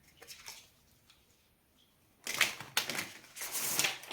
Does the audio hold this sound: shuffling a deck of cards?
yes